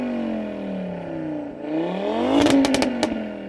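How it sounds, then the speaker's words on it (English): An Audi RS3 five-cylinder turbo with the Audi sport exhaust revs up close. The pitch sags, then climbs loudly again, and a burst of sharp crackles and pops follows at the top of the rev. "Audi RS3, can you rev your engine a bit please mate, so we can just enjoy its tone."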